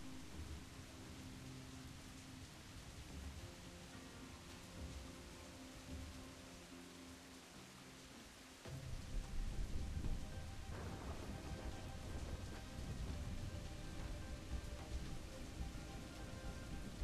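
Rain falls in the game Assassin's Creed IV Black Flag as a dense, continuous hiss that grows heavier and louder about halfway through, with low rumbling beneath, no voices.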